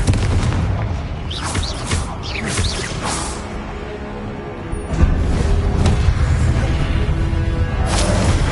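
Confringo fire spell blasts in Hogwarts Legacy on PS5, loud booming explosions mixed with whooshing spell casts and rumbling combat, repeated blasts over a dense, continuous battle din.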